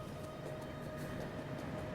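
A train in the video game Factorio with the Pyanodons mod produces a faint, steady mechanical rumble with a soft repeating click-like rhythm, with no talking.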